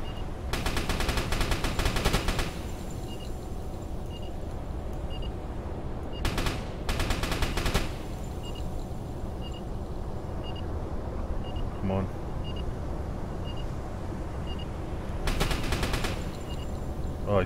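Machine gun fire in the submarine game Uboat, heard as several loud, sustained bursts of rapid shots with pauses between them over a steady engine rumble, with a voice speaking briefly.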